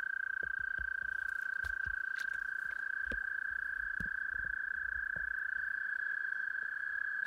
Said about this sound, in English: please ignore the sound of the frogs. Just over there is a whack of frogs